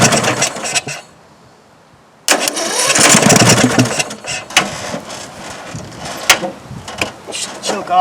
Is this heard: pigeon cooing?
no